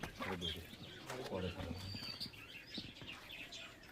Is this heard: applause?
no